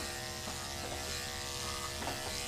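Electric clippers hum steadily and close up with a harmonic buzz while a poodle is groomed in a kennel, with faint ratcheting clicks as the blade moves through the coat and no talk.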